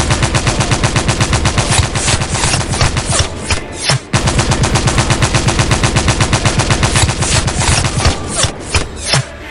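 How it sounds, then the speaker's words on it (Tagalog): Rapid, loud gunfire rattles in an action-horror audio drama, bursts of machine-gun shots in a steady rhythm that break off briefly and then resume. "Wika ni Glenn, sabay kalabit ng gatilyo ng baril habang nakatutok sa mga gabunan."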